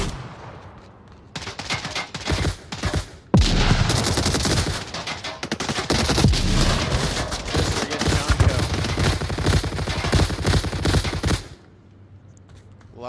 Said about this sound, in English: A lot of covering fire there